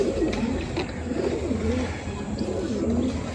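A male Madrasi pigeon coos close by in repeated soft, low, rolling phrases over a faint steady background hum.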